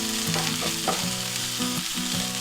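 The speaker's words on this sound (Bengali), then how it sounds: "মশলাটা আর একবার ভালো করে আমি নেড়ে নিচ্ছি।" A spice mix of turmeric and ground black pepper is stirred in hot oil in a pan for fish fingers, giving a steady close sizzle broken by several scraping spatula strokes, with no voices.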